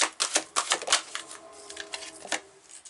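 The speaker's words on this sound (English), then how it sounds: "I'm gonna pull out all these cards." Tarot cards are pulled and flicked from a deck, giving a quick series of crisp close papery snaps and shuffles that slow and thin out toward the end, with no talking.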